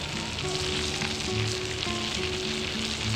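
A pepper steak sizzles in a pan, a loud, dense and unbroken hiss with a faint tonal hum running beneath it.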